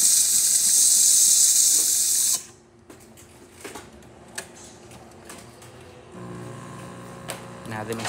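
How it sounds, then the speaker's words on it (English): A Jura Impressa Z9 coffee machine's cappuccino spout blasts a loud, steady hiss of steam for about two seconds, then cuts off, leaving faint clicks and the hum of the machine. "all that steam coming out through there"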